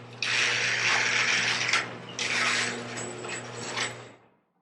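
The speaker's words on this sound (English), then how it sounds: "Let's see if it closes." A garage door fitted with new cables rumbles and rattles steadily as it closes, its mechanism grinding in two long stretches before coming to a stop.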